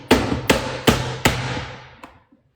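An onion dicer presses through half a white onion on a plate, producing four evenly spaced hard knocks close by, then a fainter final tap as the sound dies away.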